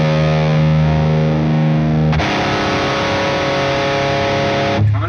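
An electric guitar played loud through a modded Marshall 1959HW Plexi amp gives a sustained, heavily distorted chord, then a new chord is struck and rings out before it is cut off near the end.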